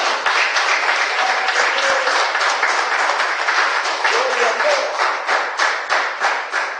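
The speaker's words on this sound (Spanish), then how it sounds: "Denle un fuerte aplauso al Señor, hermano." A church congregation claps loudly for the Lord, a dense, sustained wash of hands with a faint pulsing rhythm, close and full throughout.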